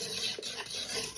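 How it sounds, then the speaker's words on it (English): Butter whisked into a buttermilk coconut pie filling in a bowl, quick rhythmic scraping and swishing strokes close up, short and steady with no talking. "4 tablespoons of butter is a plenty. And just whisk that in."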